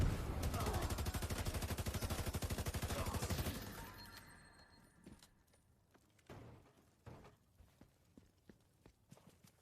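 Video game gunfire: a rapid, loud automatic burst runs steadily for about four seconds, then stops, followed by scattered sharp single shots and thuds at lower level.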